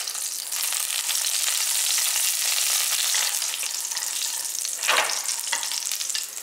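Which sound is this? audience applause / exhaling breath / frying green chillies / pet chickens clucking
frying green chillies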